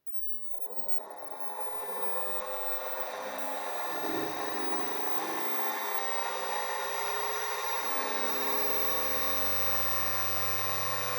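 A 220V, 50Hz electric motor powered from two batteries starts up and runs with a steady, loud mechanical whir and buzzing hum that holds evenly for about ten seconds, with no talking.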